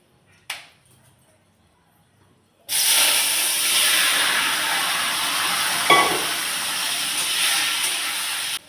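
Tomatoes hit a hot pan for chutney, already holding halved chillies, with a brief faint clatter first, then a sudden loud, steady hiss and sizzle of frying that holds for several seconds, one small clink partway through.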